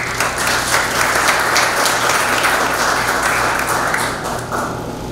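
Sustained applause from an audience at a university research presentation, a dense steady wash of many hands clapping throughout, fairly loud and close, with no talk over it.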